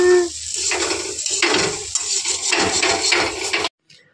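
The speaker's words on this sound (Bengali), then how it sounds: "আজকে হচ্ছে আমার পতিদেব আলু ভাজছে" Potatoes fry in a pan, a loud close hiss and sizzle broken by repeated scraping stirs of a utensil against the metal, cutting off abruptly near the end.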